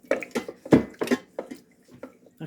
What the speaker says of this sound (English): So I'll pour the rest of that in there.